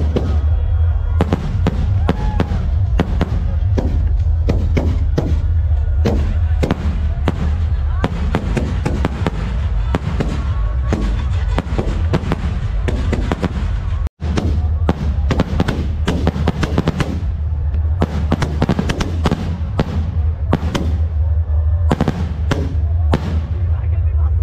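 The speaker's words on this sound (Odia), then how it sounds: "ତ ଦେଖିବା ଆମେ ବାଣ ଫୁଟା" Fireworks burst nonstop across a fairground at the Harirajpur fair in Odisha, a loud, dense barrage of sharp cracks and booming pops over a constant low rumble of crowd noise.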